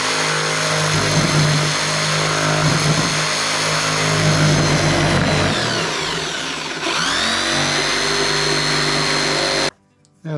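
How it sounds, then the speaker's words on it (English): A jigsaw making a plunge cut in soffit material whirs with a steady, loud, buzzing motor drone for about ten seconds, its pitch dipping briefly midway, before cutting off abruptly near the end. "Good way to start a plunge cut on a jigsaw."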